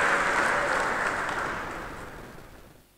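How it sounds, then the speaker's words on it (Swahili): A church congregation at a Lutheran general assembly claps for the Lord, a dense wash of applause that is loud at first and gradually dies away. "Piga makofi kwa Bwana Yesu."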